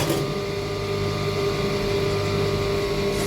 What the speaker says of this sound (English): Still using my cover stitch machine, but this time around I'm not taping it.